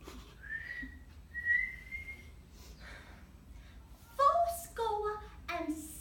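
A person whistles short tones between spoken lines of a dramatic speech, soft, quick breathy whistles that alternate with quiet talking.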